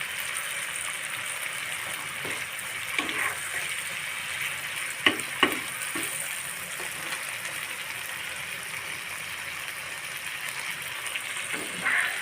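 Spice masala cooks down in hot oil for a Bengali puti fish telani curry, giving a soft, continuous sizzle with a few light stirring scrapes.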